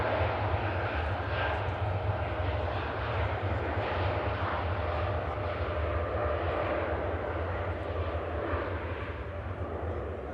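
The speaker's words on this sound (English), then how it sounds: "TUI 787 Dreamliner heading off to Cancun over in Mexico" A TUI Boeing 787 Dreamliner jet bound for Cancun takes off from Manchester Airport, a steady, broad engine roar that holds loud and continuous before easing slightly at the end.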